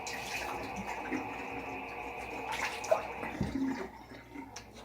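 A tap runs steadily into a sink for several seconds as water is splashed onto a face, with a brief clunk and fuller splashing near the end.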